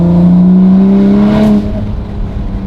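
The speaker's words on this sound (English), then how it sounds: "All I hear is exhaust right here." A widebody 2020 Toyota Supra whose exhaust pipe has come off, leaving it effectively straight-piped, roars loudly under hard acceleration, its engine note rising steadily before dropping back to a rougher idle-like rumble.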